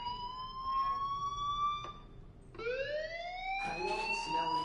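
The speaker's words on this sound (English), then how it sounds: "Hey, do you hear that fire alarm? That means you should be outside." A loud electronic fire alarm in a video game wails in rising, sweeping tones, pausing briefly before each new sweep, with layered pitches giving a synthetic, game-like quality.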